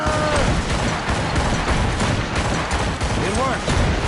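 Ship cannons fire in a rapid naval broadside during an Assassin's Creed Rogue sea battle, a dense, loud run of booming blasts over a steady roar, with brief shouts heard in between.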